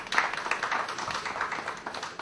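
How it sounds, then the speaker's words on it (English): Audience applause for an auction speaker, a steady patter of many hands clapping at moderate volume with no talk over it, filling the short stretch evenly. "And just give Mr. Steynovitz a round of applause"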